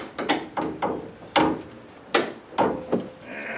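Metal clanks and taps while a new upper control arm is slid into place and a bolt is inserted on a Dodge Dakota, with about eight sharp knocks spaced irregularly, close and fairly loud.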